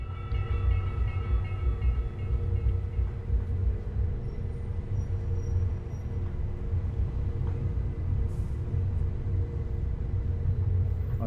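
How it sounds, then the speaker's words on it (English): A Bernina Allegra electric train in Train Sim World rolls downhill under regenerative braking, giving a steady, loud low rumble with faint whining tones above it, continuous throughout with no talking. "It's using a little bit of regenerative power now to slow us down as we go down this down slope."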